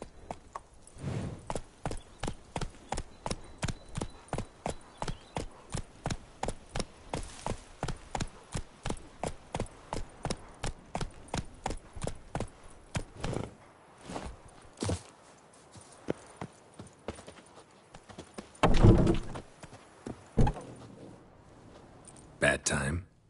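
Horse hooves in The Witcher 3 on PS5 beat a steady, even clip-clop for about thirteen seconds, then slow to scattered steps as a voice speaks near the end.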